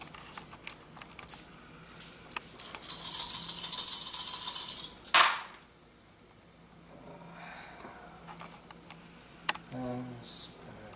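Dice rattle and tumble across a table during a tabletop war game, a dense clattering burst lasting a couple of seconds before settling, followed by quieter handling noises.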